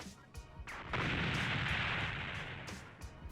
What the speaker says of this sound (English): Note that the explosion itself can also ignite other clouds of gas, so you can get this cool domino effect.